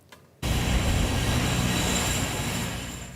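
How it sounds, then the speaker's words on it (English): A Metrolinx GO train passes along tracks a few meters from homes in Scarborough. After a brief quiet moment it bursts into a loud, sustained rumbling roar that holds steady and eases only slightly toward the end. "This GO train is passing through the Scarborough Agent Court neighborhood just a few meters from many homes."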